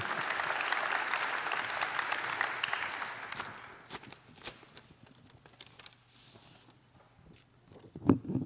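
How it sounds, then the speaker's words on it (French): Applause from an audience at an award ceremony: a dense burst of clapping that dies out after about three seconds, leaving scattered claps, shuffling and a few small knocks in the room. "On peut l'applaudir, oui, en effet."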